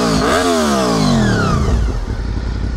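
A motorcycle fitted with a sport exhaust revs hard up and back down, with loud rising and falling engine tones that settle into a rough, throaty idle.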